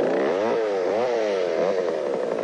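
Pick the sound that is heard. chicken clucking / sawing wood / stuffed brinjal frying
sawing wood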